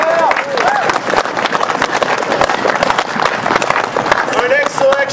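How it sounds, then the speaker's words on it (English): Audience applause at an outdoor Tuba Christmas concert in Belvidere, NJ, a dense patter of clapping from a sizable crowd with scattered voices and a few cheers mixed in. "So give them all a round of applause."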